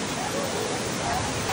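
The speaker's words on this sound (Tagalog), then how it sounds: "Andito na kami sa Hulugan Falls." Waterfall at Hulugan Falls: a dense, steady roar of falling water fills the whole stretch, loud and close with no breaks.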